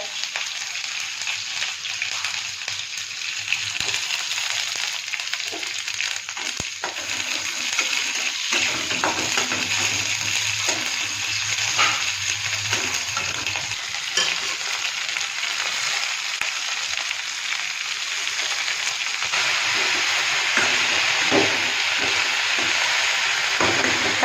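Leafy saag fries in a pan with garlic and onion, giving a continuous crackling sizzle that grows louder partway through and carries on with scattered stirring clicks.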